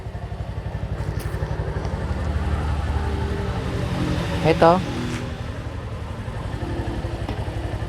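Steady low motorcycle engine rumble, idling and close by, running throughout with a brief chirpy sound midway and a short spoken word over it.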